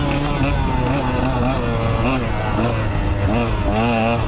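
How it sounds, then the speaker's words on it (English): A KTM 125 XC two-stroke dirt bike revs close and loud, its engine pitch rising and falling repeatedly as it shifts down and picks back up on a steep trail. "Like there, I shifted down on this bike."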